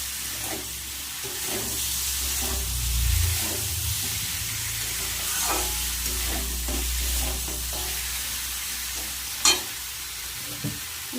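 Tender eggplant pieces sizzle and fry steadily in a pan of oil for a thin Bengali bata fish curry, a continuous loud hiss with occasional stirring scrapes and a sharp clink near the end.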